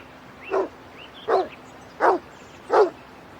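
A dog sound effect in an English audiobook of The Ugly Duckling, four clear, evenly spaced barks, close and loud, alone over a quiet background.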